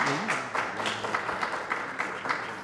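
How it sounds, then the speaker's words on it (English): Audience at an evening election forum applauding the panelists, a soft steady patter of clapping from a modest crowd, with a voice briefly speaking over the start. "Let's give our panelists a round of applause."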